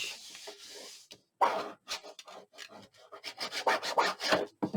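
Glued paper pressed onto a craft book box is burnished by hand in a series of short, dry rubbing strokes, irregular in rhythm and close up, with brief pauses between them and no talking.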